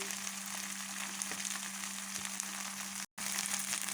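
Spice paste of ginger and garam masala sizzles steadily in hot oil for a fish curry, a continuous close frying hiss with a brief dropout near the end and no talking.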